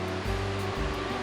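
Jhari Waterfall in Chikmagalur, in deep forest among coffee gardens, pours with a steady, loud, broad rushing roar that does not let up.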